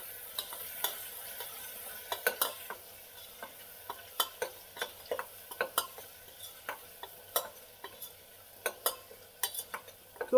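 Green bean and potato curry being stirred in a pan after salt and turmeric go in, a steady run of close, sharp spoon scrapes and clinks over a light sizzle.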